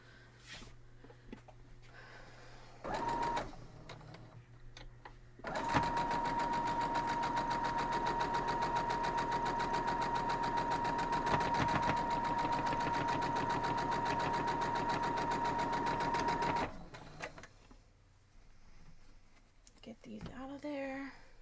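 A sewing machine stitches quilt block pieces in one long, even whirring run of about eleven seconds. Brief bursts come before it, and handling noise and faint talk surround it.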